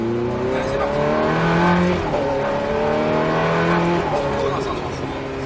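A Ferrari F430 accelerating hard on a race track, its engine note climbing through gears in rising sweeps with brief drops at each shift, loud and close throughout.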